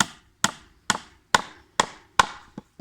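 A hammer drives a nail into a living tree trunk, six or seven sharp, ringing wooden blows at a steady half-second rhythm, close and loud with brief decays between strikes.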